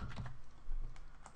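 A few quick, faint key clicks on a computer keyboard, heard briefly over a low background hum.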